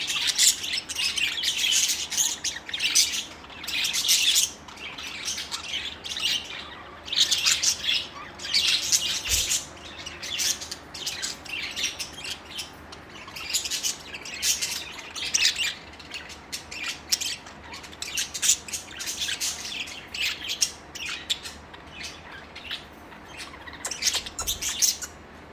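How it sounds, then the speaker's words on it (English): Pet budgies chirp and warble almost nonstop, producing dense, bright, rapid chatter that stays loud and close for the whole stretch, with no voices over it. "Pretty birds. Oh, the Budgies are cute."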